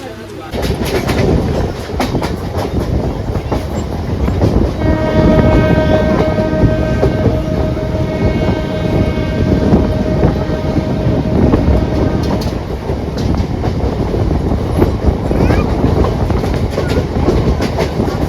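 A Diva–Vasai Road MEMU passenger train rumbles and rattles steadily along the tracks, with a long sustained horn blast sounding through the middle.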